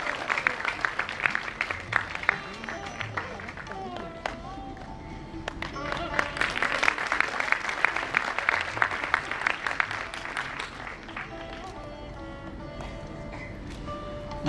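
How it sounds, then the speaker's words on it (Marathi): Audience clapping at an award presentation during the Konkan festival, rolling applause with scattered individual claps that swells and fades, mixed with crowd murmur and a voice talking over it. "माहिती आहे आपण सतत टाळ्या वाजवतो आहोत"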